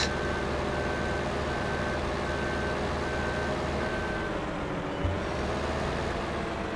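Truck in Farming Simulator 15 rumbling steadily along off-road with a continuous repeating reversing beep over the engine drone, close and even in level.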